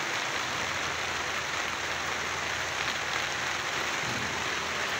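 Steady rain pours onto an outdoor air conditioner unit during a lightning storm, a dense, continuous hiss and patter filling the whole stretch without pause and with no voices.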